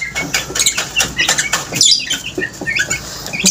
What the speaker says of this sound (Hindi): उड़ने लगे इतने ज़्यादा कबूतर